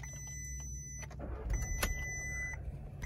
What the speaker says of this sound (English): So I'm going to start it up, and then we're going to hear the sound isolation of this car.